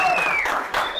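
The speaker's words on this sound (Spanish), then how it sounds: "Un aplauso." Studio audience on a TV talk show breaking into brief applause and cheering, a short burst of crowd clapping with a whistle over it.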